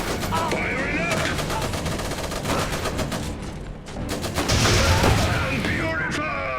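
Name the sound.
gunfire in video game Iron Harvest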